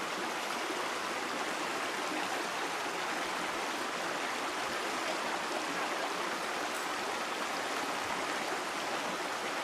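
The Irawan river in Palawan rushing below the skywalk, a continuous broad roar of flowing water, steady and fairly close, with no talking.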